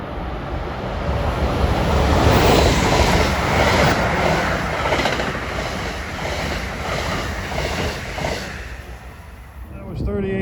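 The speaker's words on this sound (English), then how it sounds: "Comes a New Jersey Transit Express at 532 northbound." A New Jersey Transit express train rushes past northbound at Rahway, a broad, loud roar of wheels and wind building and fading over several seconds, with a speaking voice faintly mixed in.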